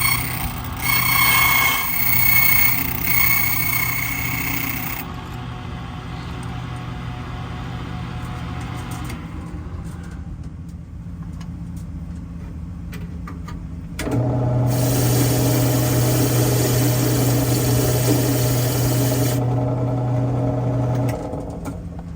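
A key cutting machine whirs with a steady motor hum and a grinding, rasping bite as it shapes a new key, falling quieter for a stretch in the middle before the louder cutting returns.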